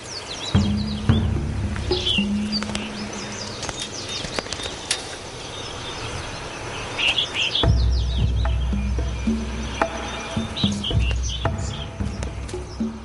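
Medium ground finches chirping beside giant tortoises in the Galapagos, with scattered short high calls, wing flutters and occasional low rumbles and thuds from the animals close by in an open outdoor setting.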